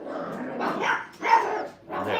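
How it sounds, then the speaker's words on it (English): Five-week-old puppies in a kennel crate bark and yip in three short bursts, close and fairly loud, with brief quiet gaps between the outbursts and no talking. "They all got to practice their growl and bark so everyone knows how tough they are."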